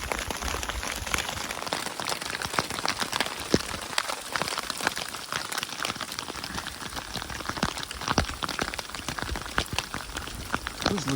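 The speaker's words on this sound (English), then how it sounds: "It's hailing." Hail pelting hikers' rain gear on the Colorado Trail near beaver ponds, a dense, steady patter of countless small hits close by, continuous and loud throughout with no talk.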